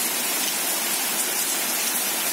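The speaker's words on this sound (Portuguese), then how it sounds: "ali tá descendo a enxurrada, moço" Rainwater runoff rushes past just after a rainstorm, a loud, steady, close hiss of flowing water with no pauses and no voices.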